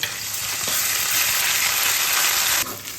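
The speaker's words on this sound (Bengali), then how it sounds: "ভাজা পেঁয়াজের মধ্যে এক চামচ আদা বাটা রসুন বাটা শুকনো লঙ্কা বাটা কষিয়ে নেব" Onions frying in a pan with ginger, garlic and dried chilli paste while making a winter egg ghugni: a loud, steady, crackling sizzle that fills the clip, with no talking.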